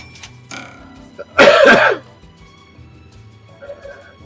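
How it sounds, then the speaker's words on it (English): A single harsh cough bursts out in the middle, loud and rough, with quiet room tone before and after. "You can actually see me turning away from the mic to cough."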